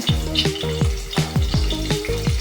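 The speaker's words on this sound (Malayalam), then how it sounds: "ആവശ്യത്തിന് എണ്ണ ഒഴിച്ചു അതേപോലെ വെളുത്തുള്ളിയൊക്കെ ഇവിടെ ആദ്യം ഇടുന്നേ" Garlic frying in hot oil for a Kerala chicken curry, a loud, steady close sizzle with repeated scraping stirs of a spoon against the pan and no talking.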